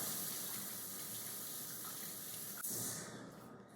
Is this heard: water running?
yes